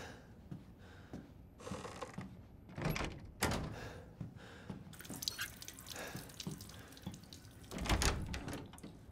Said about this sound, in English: I'm just gonna leave that faucet on.